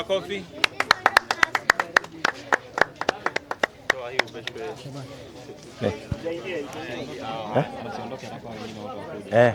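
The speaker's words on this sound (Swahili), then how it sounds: "Makofi." Sharp hand claps from an audience at an Okoa Malindi community event ring out in a quick burst and then fade, giving way to dense crowd chatter and talk.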